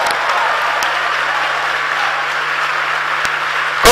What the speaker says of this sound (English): I'm sure you know why the clap is very big.